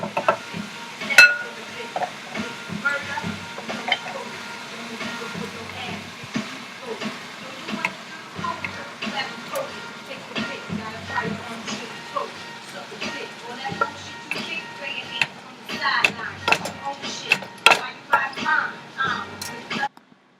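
Food cooks in a frying pan with added sauce on a stovetop, giving a soft continuous sizzle with scattered stirring and utensil clicks that grow busier and louder toward the end.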